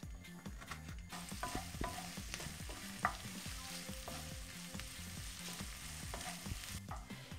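Onion fries in a pan on an unfamiliar stove while an omelette with mushrooms and cheese is being made, giving a soft, steady sizzle with repeated light stirring scrapes and one brief sharper knock.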